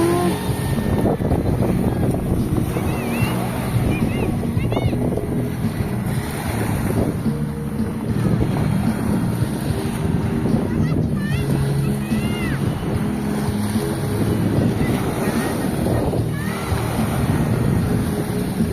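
Steady roar of wind and surging ocean waves at a beach, loud and continuous throughout, with some faint background voices.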